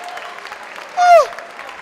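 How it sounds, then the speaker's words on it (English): At a stand-up comedy show, the audience applauds Namibians with a soft, scattered patter of clapping in the background, briefly interrupted by a short vocal exclamation from the comedian. "A round of applause for Namibians."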